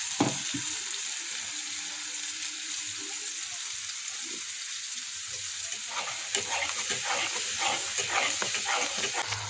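Watery turmeric spice paste poured into a hot oiled frying pan for a paneer curry hisses in a steady loud sizzle, with stirring scrapes and crackles growing busier near the end.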